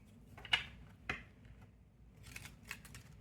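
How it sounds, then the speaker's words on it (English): A Mystic Red Rose Oracle card deck shuffled by hand, a few crisp rustling snaps spaced apart at close range, with no talking. "Let me shuffle it a couple of times to get some more information"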